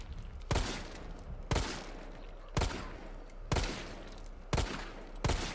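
Gunfire in the video game Resident Evil 3 Remake comes as six loud, sharp shots spaced about a second apart, each with a short tail, with no voices.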